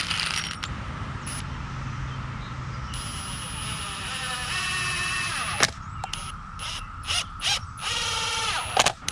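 Power Pro exterior deck screws being driven into pallet wood for a garden bed, a steady mechanical whirring with ratcheting clicks and sharp bursts, close and fairly loud throughout, no talking.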